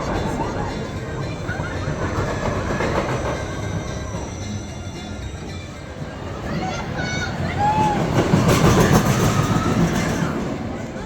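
Family roller coaster ride on Val d'Isère at Parc Asterix, a steady rumble and rattle of the train on its track throughout with rising roar and a brief wheel squeal near the end, with people talking over it.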